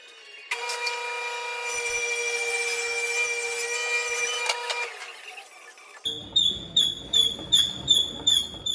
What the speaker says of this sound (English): we can cut down the sides, top, bottom, and shelf on our table saw